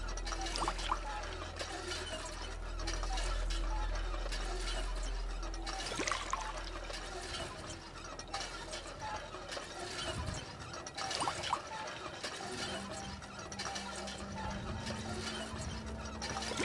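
Water pours and trickles in Fallout 4 while bottles are filled, with mechanical ratcheting clicks and a low hum throughout, the sounds soft and somewhat distant, repeating in a steady, unhurried loop.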